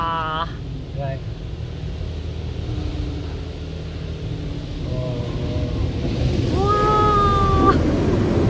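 A touchless car wash in Corner Brook, Newfoundland sprays chemicals and water over a car, a steady hiss and rush that swells louder toward the end while people talk and exclaim inside the car.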